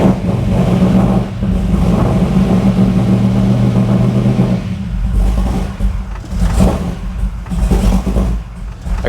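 A car engine fitted with an Edelbrock VRS 4150 carburetor rumbles loud and close as the pedal is pressed, rising into a rough rev and then falling back and surging again, without talking.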